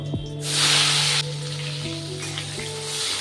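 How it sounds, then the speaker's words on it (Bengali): Chopped tomato sizzles and fries steadily in hot mustard oil in a pan, a close, continuous hiss with a brief louder burst near the start. "তেলে একটু ফ্রাই করে নিচ্ছি।"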